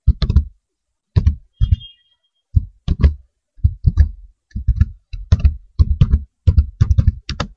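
Code is typed on a computer keyboard in quick clusters of sharp, close key clicks, broken by short pauses, with no talking.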